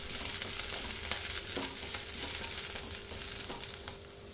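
Curry leaves hit hot oil and are stirred, giving a steady, fairly quiet sizzle and crackle with occasional faint scrapes of the spoon, no voices present.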